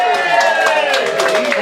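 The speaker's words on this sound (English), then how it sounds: "I'll put a round of applause for Bobby and Michelle and the band members here." Audience at an outdoor polka festival claps for a polka band, a dense continuous patter of applause close and loud for a brief moment.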